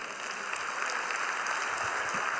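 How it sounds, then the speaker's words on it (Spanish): Steady applause from a church congregation after a call to praise the Lord, dense and continuous throughout with no voices on top. "Denle un aplauso al Señor."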